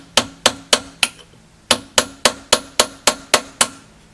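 Repeated hammer blows knocking the rotor off a Suzuki TC 185 dirt bike engine, four sharp metallic strikes, a short pause, then seven more in a steady rhythm, close and loud with no talking.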